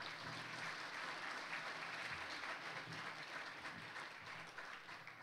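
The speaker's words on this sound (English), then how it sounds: "give a big round of applause to everybody here" Sustained audience applause fills a hall at a community awards ceremony in County Clare, a dense, steady wash of many hands clapping for the full stretch without voices over it.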